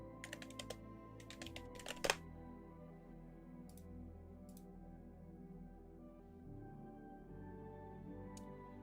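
A short flurry of keyboard key clicks at the start, then a few isolated taps later over a low steady room hum.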